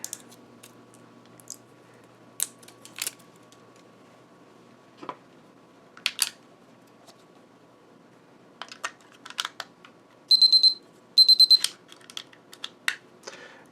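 A Therma Pro digital food probe thermometer being powered up: scattered soft clicks and handling noises, then two quick bursts of high electronic beeps near the end, close and clear in an otherwise quiet room.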